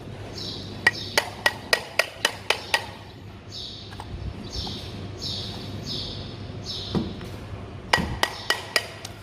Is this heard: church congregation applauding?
no